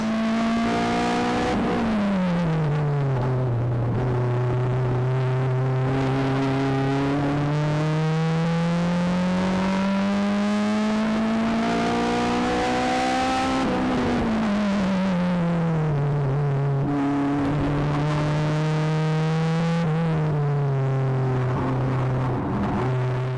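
A K-swapped Nissan 240SX on a track day lap, recorded from on board: the loud four-cylinder engine note climbs steadily through the revs, drops sharply at each upshift, then rises again, continuous and close throughout.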